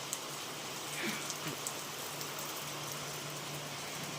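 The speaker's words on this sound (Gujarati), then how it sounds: "બહુ એટલે બહુ વરસાદ પડ્યો એની વાત છે" Heavy rain falls in a dense, steady hiss that fills the whole stretch without letting up. Scattered heavier drops patter on surfaces here and there, and no one speaks.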